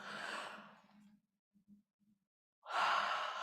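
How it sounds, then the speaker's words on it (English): A long, breathy yawn during a guided breathing meditation, trailing off into a quiet pause with a few soft catches of breath, then a second loud open exhale rising near and clear. "Maybe yawn now."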